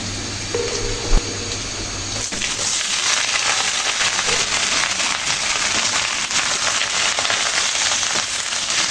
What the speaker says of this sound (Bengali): এই আলু সবজিগুলো হালকা করে ভেজে নিচ্ছি